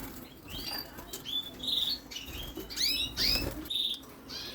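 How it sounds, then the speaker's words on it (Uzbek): Young brown Satinette pigeon chicks flap their wings in short fluttering bursts, close by, mixed with thin high squeaky chirps and peeps between the flurries. "Bruno Satinet cho'jalar."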